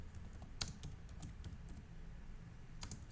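Quiet, close typing on a computer keyboard, a quick run of light key taps with a couple of sharper strikes, heard alone over faint background hum.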